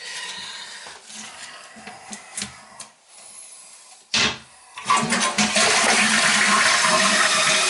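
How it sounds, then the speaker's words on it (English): A toilet flushes after its tank-to-bowl bolts are replaced. Handling noises and knocks come first, then a loud rushing flush of water that keeps going steadily to the end. "Flush it good a bunch of times and make sure it's okay."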